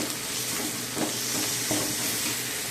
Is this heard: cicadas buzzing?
no